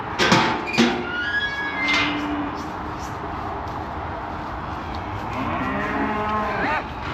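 Cattle moo repeatedly while heifers are sorted in a farm shed, several long, low calls from nearby animals, with a short metallic knock at the start and a person speaking briefly.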